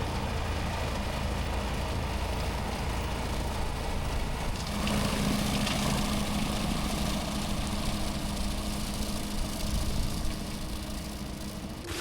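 A John Deere tractor mows grass on a big tower property, its engine droning steadily and close for the whole stretch, with a low hum joining partway through and no talk over it.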